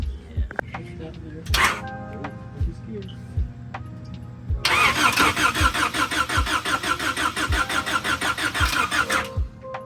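An old project car's engine cranks as someone tries to start it: a few scattered thunks first, then a loud, rapid rhythmic churning of the starter for about five seconds, close by.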